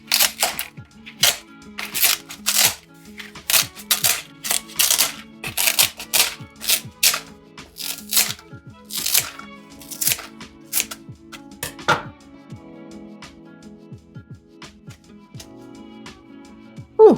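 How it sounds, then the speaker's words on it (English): Scissors snip through fresh pandan leaves in a quick series of crisp cuts, steady at first, then sparser, close-up in a quiet room. "I'm going to snip them with scissors"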